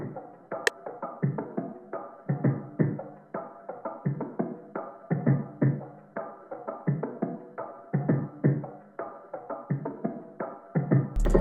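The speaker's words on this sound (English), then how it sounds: "I added this perc loop from XY Nothing's Avant-Garde one-shot kit." A percussion loop from the Avant-Garde one-shot kit plays a busy, syncopated pattern of short muted hits and knocks in a steady groove, close and dry throughout, with no voices.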